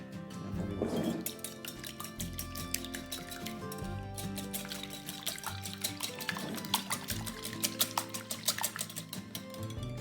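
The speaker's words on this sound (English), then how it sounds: "and then we whisk it." Egg whisked in a bowl for crêpe batter makes a rapid, steady run of light metallic clinks and taps as the whisk beats against the bowl's sides, close and continuous for the whole stretch.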